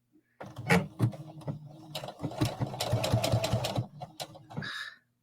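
A domestic sewing machine stitches a buttonhole on a jacket with a rapid, steady mechanical whir and clatter that speeds and slows, close by, and ends with a short whirring wind-down.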